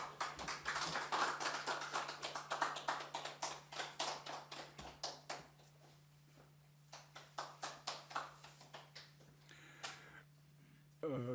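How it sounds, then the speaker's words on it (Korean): Scattered hand claps from a modest audience at an academic society's autumn conference hall greet the honorary chairman, loud and uneven at first, then thinning out and briefly picking up again, over a steady electrical hum. "큰 박수로 맞아주시기 바랍니다."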